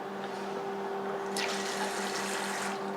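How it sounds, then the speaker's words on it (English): Cold water pours and splashes into a cooking pot, a steady close running-water rush that brightens partway through as the stream picks up, with a constant hum beneath. "Just put some cold water in"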